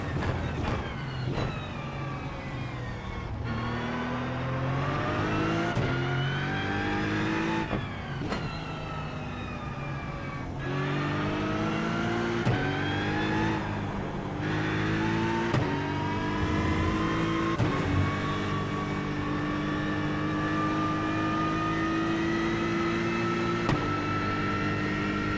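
Race car engines in the iRacing sim game roar loudly and continuously, their pitch climbing through each gear and dropping sharply at every shift, with several engines overlapping close by.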